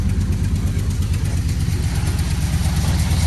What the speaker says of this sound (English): when an engine's running healthy